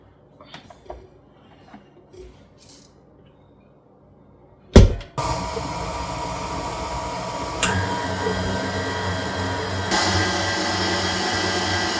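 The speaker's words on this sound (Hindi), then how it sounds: "मैंने मशीन की सबसे लोएस्ट सेटिंग यूज़ की है और इस पैडल अटैचमेंट के थ्रू पूरा 1 मिनट के लिए आपने तमाम इंग्रेडिएंट्स को मिक्स करना है" Stand mixer with paddle attachment, running on its lowest setting while mixing batter with flour, starts after a few quiet clatters and a thump, then whirs steadily and loudly at close range to the end.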